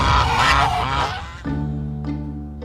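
Goose honking in a Magic: the Gathering trailer, a loud nasal honk over a busy backdrop, followed by sustained tonal music-like hums and a couple of short soft accents.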